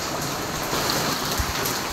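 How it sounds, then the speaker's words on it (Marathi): Heavy rain pouring down in Surat at night, a dense, steady roar of drops striking surfaces, close and continuous, with no voices. "तुम्हाला दाखवतो मी तर पाऊस किती चालू आहे ते"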